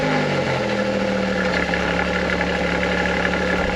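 A Maserati Grecale Trofeo SUV with a black-tipped quad exhaust runs steadily near idle, a low continuous engine rumble with a slight dip in pitch early on, close and fairly loud with no talking.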